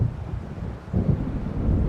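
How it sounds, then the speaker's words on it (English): Low rumbling thunder of an approaching storm over open water in Alan Wake Remastered, a steady distant roll that swells louder partway through, mixed with wind. "It seems there's a storm coming."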